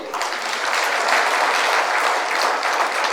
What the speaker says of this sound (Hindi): पहले तो अपने इस स्वच्छता के नाम पर अपने लिए ताली बजाइए